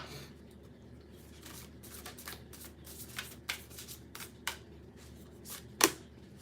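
Oracle cards being shuffled by hand for a medicine woman card, a soft papery riffling with repeated brief flicks and a sharper snap near the end, close and quiet, with no voices.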